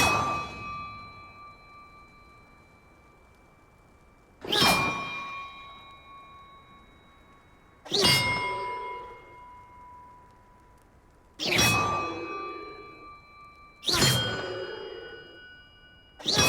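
Large bells being rung in the video game Hogwarts Legacy, five separate loud clanging strikes spaced a few seconds apart, each ringing out with a long shimmering decay into quiet.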